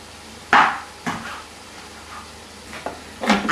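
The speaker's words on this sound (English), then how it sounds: "Now I'm going to wash and chop 3 chillies." A kitchen knife chopping chillies on a board: a few separate sharp knocks, close and fairly loud, with quiet pauses between them.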